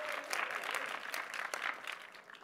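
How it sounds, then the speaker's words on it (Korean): Church youth-camp audience in Busan applauding a testimony speaker, a dense, steady patter of many hands clapping at moderate distance with no talk over it. "우리 박수로 격려하겠습니다"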